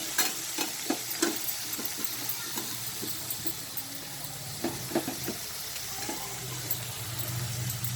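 Baby corn and spring onion greens stir-fried in a pan for pepper baby corn, with a continuous sizzle and repeated clattering strokes of the spatula, close up, no voices.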